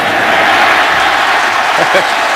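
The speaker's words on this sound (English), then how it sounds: "And you hear the crowd. They're reacting to the call. They're just excited to see a running play." Football stadium crowd at an NFL game between the Bengals and Ravens, a steady broad roar of cheering and noise that holds loud and constant throughout, with no clear talk over it.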